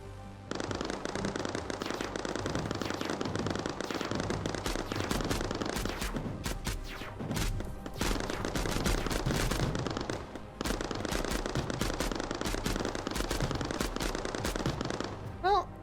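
Machine gun fire in the video game Mindustry, where units armed with machine guns fight each other: dense, continuous rapid bursts of gunfire rattle almost without pause, loud and close, with a short break in the middle and faint talk underneath.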